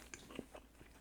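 Biting into a smoked Peking duck bun from a pellet grill, heard as a few soft, close chomping and chewing crunches spread over about a second, quiet and without talk.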